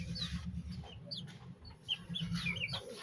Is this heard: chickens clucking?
yes